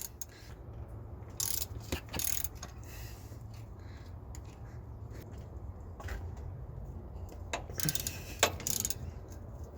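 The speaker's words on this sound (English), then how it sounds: "now I'm going to go ahead and unbolt the actual alternator." A hand ratchet working loose 15 mm alternator bolts on a 2005 Chevy Silverado, giving faint clicking strokes in short runs over a steady low hum, close up with no talk.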